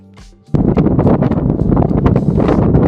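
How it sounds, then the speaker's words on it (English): Strong wind buffets a sailboat on a river, a loud, rough gusting roar kicking in abruptly after a quieter moment and staying up close and full-bodied, with no talk. "Okay, the wind's howling now, and you can see the white caps in the water"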